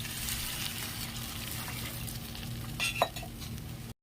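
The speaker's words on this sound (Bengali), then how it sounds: "এবার আমি এতে অ্যাড করে দেবো জল" Water goes into a pan of spice and tomato paste frying for a masoor dal vada curry, a steady sizzle with a brief splash and clink near the end and no talking.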